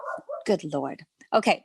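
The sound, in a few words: dog barking outside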